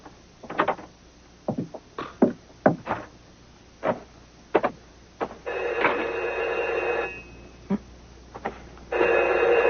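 A telephone rings in bursts indoors, in a drama scene, with knocks and footsteps before a sustained ringing tone sounds twice, fairly loud and close.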